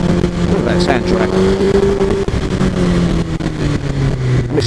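A Suzuki GSX-R 1000 K5 motorcycle engine accelerates on the road, a loud, close, rising engine whine with steady harmonic drone, heard over wind rush with a rider speaking.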